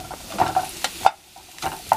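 Mushrooms sizzle and spatter in a hot pan, with a few sharp pops and stirring scrapes, close up and without talk.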